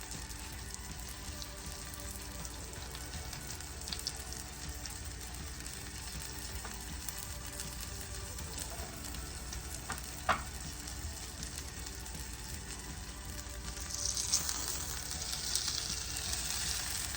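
A birria-dipped tortilla sizzles steadily in a hot pan, a close, constant frying hiss with faint pops and a brief scrape of movement near the end.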